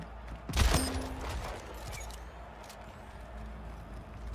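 A burst of gunfire in the online shooter Splitgate, a loud cluster of shots near the start that fades into a lingering rumble of game ambience.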